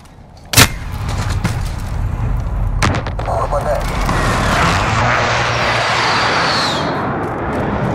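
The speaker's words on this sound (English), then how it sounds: "Enemy precision airstrike." In Call of Duty: Modern Warfare, a precision airstrike jet roars overhead, its engine noise building into a broad, loud rush after a sharp crack, with gunfire and a spoken game voice in the mix.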